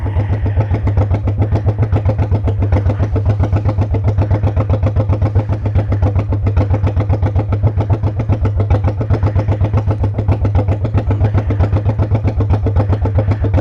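Harley-style motorcycle engine running steadily at idle, a loud, close, rhythmic low-pitched pulsing thump that continues unchanged throughout with no voices.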